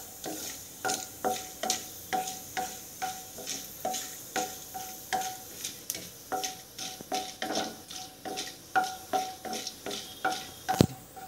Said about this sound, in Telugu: ముందుగా ఆయిల్ వేడెక్కిన తర్వాత పోపు వేసుకోవాలి